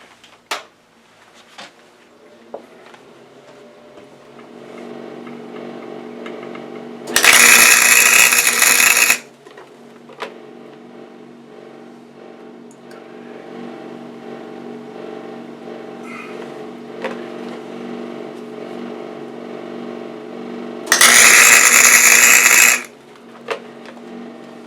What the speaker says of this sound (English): I'm using my somewhat underpowered MIG